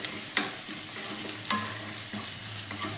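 Chopped onion frying in a pan for a spring-onion and bori dish, with a steady sizzle and a few sharp scraping stirs spread across the clip, close and moderately loud.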